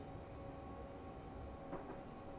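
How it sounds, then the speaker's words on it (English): A simulated passenger train runs on the London to Brighton route in a driving game, giving a steady low rumble of wheels and motor with a brief brighter clatter near the end and no voices. "Ooh, train getting a little jumpy today in this conditions."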